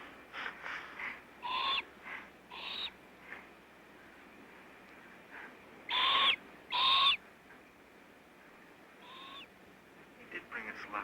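An owl hoots in a handful of short, bright calls, two close together in the middle and a fainter one after, with quiet stretches of soft background noise between them.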